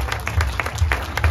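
A crowd applauding at the opening of an international sculpture symposium in Saint-Georges, Quebec, a dense patter of clapping hands filling the space, steady and fairly close.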